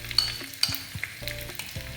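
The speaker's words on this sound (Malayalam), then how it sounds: "നമ്മുടെ വെളിച്ചെണ്ണയിൽ വേണം ഇതിന് കടുക് വറുക്കാൻ." Mustard seeds fry and sizzle in hot coconut oil for a Kerala sweet mango curry, with steady crackling and scattered pops close up, no voices over it.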